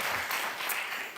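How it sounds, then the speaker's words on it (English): Summit audience applauding the breakout session chairs, a brief dense burst of clapping from a large room, steady and fairly loud. "A round of applause for Claudia and Emmanuel."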